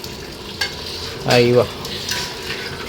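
Hot water poured into a pot of boiling bones gives a short, sharp burst of hiss and splash over a low simmering background, and a voice briefly exclaims.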